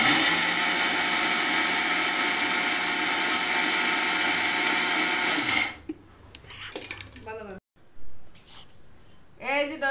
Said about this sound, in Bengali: আরো একটু গুঁড়া করতে হলে আমি আরো কয়েকবার করব, করলে হচ্ছে এটা ব্লেন্ড হয়ে যাবে